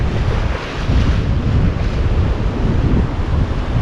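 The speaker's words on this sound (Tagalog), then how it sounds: "Pabagat ang hangin." Strong typhoon wind blows across the sea port at Balatan, a constant loud roar buffeting the microphone with crashing surf mixed underneath.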